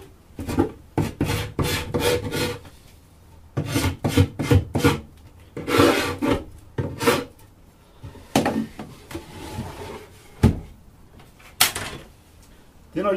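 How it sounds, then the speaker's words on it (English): A steel hive tool scrapes propolis off a wooden Langstroth beehive box in a run of short, loud, close rasping strokes, some in quick bursts, separated by brief pauses. "And I try and scrape it all into the middle of the box."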